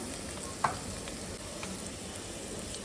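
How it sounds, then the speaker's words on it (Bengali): Whole cardamom pods and cloves, a garam masala blend for chicken korma, fry briefly in hot oil, a steady close sizzle with a single sharp stir or tap near the start. "ছয় সাতটার মতো এলাচ আর দুটা লং সমস্ত গরম মশলাগুলো ঢেলে এবার সামান্য একটু ভেজে নিচ্ছি কয়েক সেকেন্ড"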